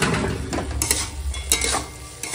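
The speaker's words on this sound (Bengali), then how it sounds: "হালকা হাতে মেশাবো" Tomato chutney with raisins, cashews and mango leather being gently stirred in a pan, a soft scraping and shuffling with light sizzling and occasional spoon clinks against the pot.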